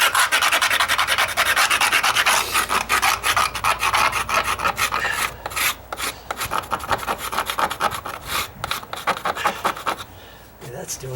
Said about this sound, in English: Just use my putty knife to kind of get off some of the bigger stuff